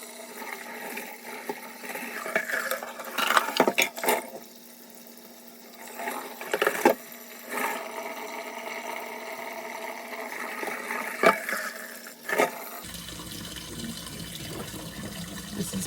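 Tap water gushes into a pot holding freshly cooked farm eggs, filling in uneven bursts with splashing and gurgling, then cutting off near the end to leave a quieter hiss.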